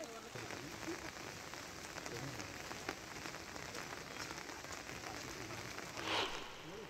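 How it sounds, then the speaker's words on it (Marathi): Heavy monsoon rain pours down in Ratnagiri district, a continuous dense hiss of drops on surfaces that stays fairly quiet and even, swelling slightly near the end. "रत्नागिरी जिल्ह्यात सकाळपासूनच धुवाधार पावसाला सुरुवात झालेली आहे. दुपारनंतर पावसाचा जोर वाढलेला आहे."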